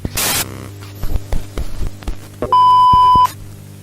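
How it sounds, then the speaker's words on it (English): An electronic device gives one sustained, steady beep, loud and close, after a few scattered clicks and rustles. "Beep, beep, beep, beep, beep, beep, beep, beep, beep, beep."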